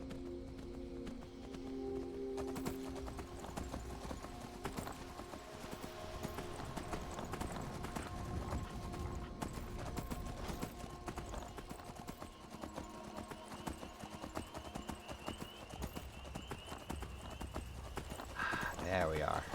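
Horse hooves clip-clop at a steady galloping rhythm in the video game Skyrim, a quiet, continuous pattern of hoofbeats under almost constant talking.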